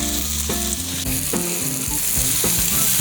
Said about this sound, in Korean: 이 고기 익는 소리만큼 마음을 풍요롭게 해주는 게 있을까요?